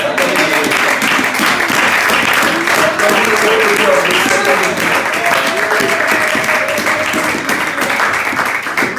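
A church congregation at a Sunday service applauding in praise, loud, dense, continuous clapping filling the space, with voices blended in underneath.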